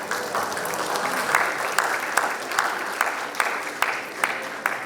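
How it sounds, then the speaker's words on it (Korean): An audience at a corporate ESG management award ceremony claps steadily, a moderate wash of applause with occasional sharper claps and camera-shutter clicks popping out at a fairly regular pace. "다시 한번 큰 박수 부탁드리겠습니다."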